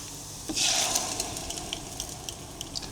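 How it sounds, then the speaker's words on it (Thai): A Thai omelette of beaten eggs with minced pork, Thai shallots, bird's eye chilies and fish sauce frying in hot oil: a loud sizzling burst starts half a second in, then settles into steady crackling hiss with no talk. "อันนี้มันเจียวไข่นะ"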